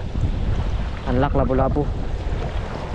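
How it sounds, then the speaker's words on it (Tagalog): Blustery wind suddenly roars across the microphone near the water on a fishing trip, with someone speaking briefly in the middle. "Bigla lumakas yung hangin"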